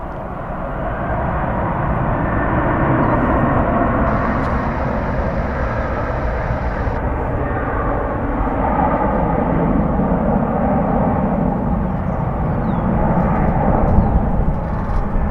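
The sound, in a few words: Boeing 737 airliner at DFW Airport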